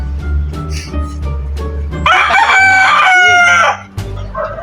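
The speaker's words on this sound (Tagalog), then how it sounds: "Kamera ito yung manok sa pare." A rooster crows once, loud and close, in a long drawn-out call with a background hum and some scattered noise before and after.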